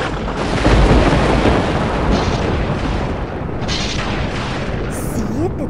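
Thunder rumbles loud and continuous as a dramatic sound effect, a deep rolling roar that fills the whole stretch with no break.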